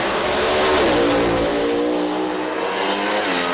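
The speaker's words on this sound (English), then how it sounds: "Patterson in that crazy Superbird trying to get the win" A Plymouth Superbird pro modified drag car launches and races down the strip at an IHRA drag racing event, a loud engine roar with rising pitch that stays close and powerful, then gradually recedes slightly.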